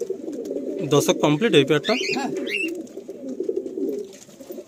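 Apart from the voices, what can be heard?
Madrasi pigeon pair cooing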